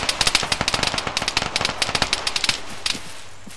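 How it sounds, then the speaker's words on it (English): Full-auto rifle fire in ARMA 3, a rapid run of sharp, loud shots in steady bursts that thin out toward the end, with no talk over it. "There is full automatic fire into the forest."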